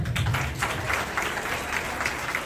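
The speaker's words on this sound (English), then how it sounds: "I think we need to clap more." Audience clapping at an Islamic school graduation and prize-giving ceremony, a steady wash of many hands continuing throughout at moderate loudness, with no talk over it.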